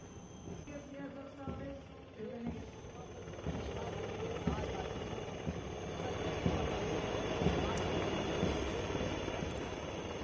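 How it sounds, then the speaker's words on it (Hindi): A military helicopter flies over the Indian Military Academy passing out parade, showering flowers on cadets, its rotor producing a steady rumbling thrum with rapid chopping pulses throughout, moderately loud over a faint background. "जब अंतिम पग के लिए जा रहे थे कैडेट्स तो उनके ऊपर हेलीकॉप्टर से फूलों की वर्षा की गई"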